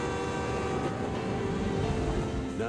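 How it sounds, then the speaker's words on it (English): A train approaches with a dense, steady rumble of wheels and engine, loud and continuous with no voices, and a faint rising tone near the end. "Mister, there's a train coming!"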